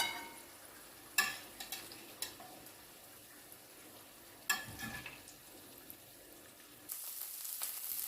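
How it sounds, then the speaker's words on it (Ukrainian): Zucchini frying in a skillet, a steady low sizzle with a few sharp clicks and knocks of a utensil against the pan, no talking. "Цим часом підсмажились кабачки."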